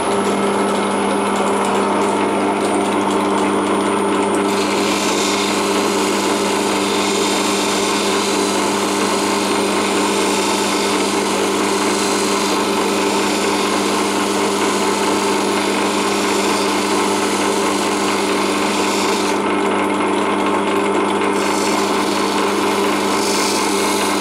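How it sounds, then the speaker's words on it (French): A gemstone being polished on a grinding wheel, giving a steady high whirring motor drone with a continuous rubbing hiss that holds at even loudness throughout. "Entre chaque meule, je reproduis les mêmes gestes."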